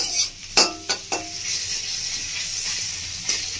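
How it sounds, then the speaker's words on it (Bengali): Mixed vegetables for a paneer roll fry in a pan with a steady sizzle, punctuated by a few sharp clinks and scrapes of a spatula stirring against the metal. "সবজিটা ভাজা ভাজা হয়ে যাচ্ছে"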